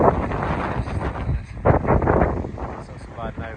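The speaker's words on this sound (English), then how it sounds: "Horrendous wind." Strong gusting wind in Scotland buffets the microphone with loud, rough roaring that surges and eases in waves, with no other sounds standing out.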